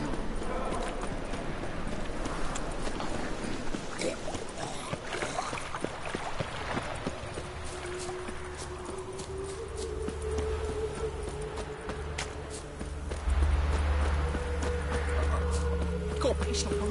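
A horse's hooves clip-clop steadily in a video game world, The Witcher 3, close and moderately loud, with game voices speaking over parts of it.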